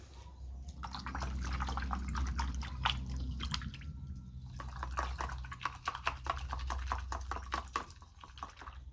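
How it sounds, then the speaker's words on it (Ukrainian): Liquid plant-protection preparation pours and splashes into warm settled water, followed by a series of clinks and sloshing strokes as it is stirred, with no voices. "І до цієї води виливаю фітохелп. Перемішую."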